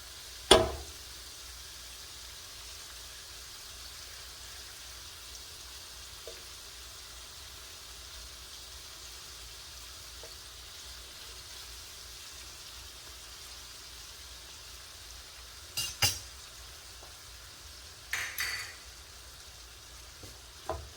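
Shrimp cooking in butter in a pan over medium heat, a faint, steady low sizzle with a sharp clack at the start and a few brief utensil clinks near the end.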